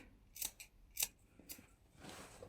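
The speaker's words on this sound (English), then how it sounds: "Now snip across these corners, and you can also snip into it along here." Fabric scissors snip across and into seam-allowance corners on a sewn dress, three or four crisp, quiet snips spaced about half a second apart, then a brief rustle of fabric.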